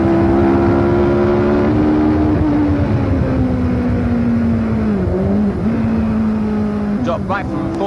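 A 1970 Formula One car screams through the streets of Monaco, a loud near engine note that holds high and shifts pitch as it accelerates through the gears, with someone speaking over it.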